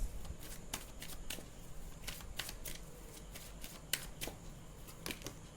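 Tarot cards being shuffled by hand: repeated crisp riffles and flicks in an uneven rhythm, close and clear, with no talking.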